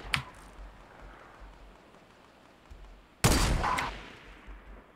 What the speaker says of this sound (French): Qui a tiré, c'est toi? C'est moi